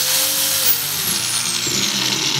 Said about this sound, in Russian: Следующий подключил болгарку Энергомаш к сети,